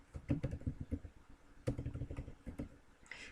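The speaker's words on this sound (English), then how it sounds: "all I'm doing is I'm just typing in" Close typing on a computer keyboard with irregular, clattering keystrokes in quick bursts and a few heavier key hits, heard alone without speech.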